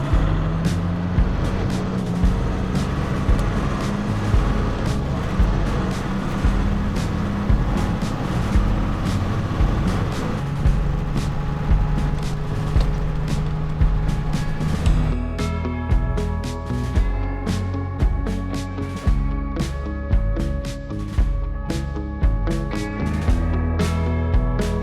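An expedition truck drives along a road in Armenia, its engine droning loud and steady from inside the cab, with regular rhythmic knocks and rattles running through the whole stretch and no speech.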